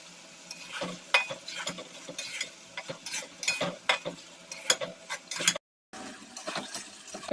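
Small fish in a paste of ginger, garlic, turmeric, chili and coriander, stirred and fried in a pan: a steady sizzle broken by irregular scraping stirs and light utensil clinks, close and moderately loud, with a brief gap near the end.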